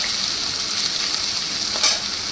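Chopped onion frying hard in a hot pan with ginger for a banana-flower kofta curry, a steady dense sizzle throughout with a brief louder crackle near the end.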